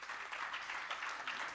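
Audience applause at an annuity plan launch event, a soft, distant wash of many hands clapping steadily with no pauses.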